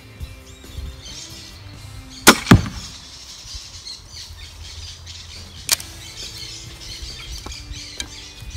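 A Man Kung 150 lb compound crossbow firing a steel arrow: a loud, sharp snap of release quickly followed by a second crack, then a quieter click some seconds later amid faint outdoor background.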